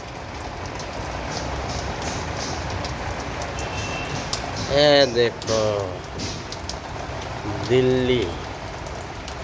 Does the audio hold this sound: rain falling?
yes